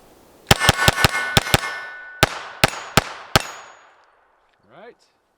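A Taurus TX22 pistol fires a rapid string of about ten shots, each crack answered by a bright ringing clang from steel targets, loud and close, followed by a short voice at the end.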